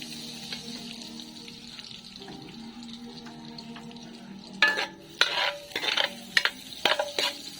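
Butter and spices sizzle in a frying pan while being stirred, a soft low hiss at first, then several sharp scraping stirs and clatters near the end, close and fairly quiet.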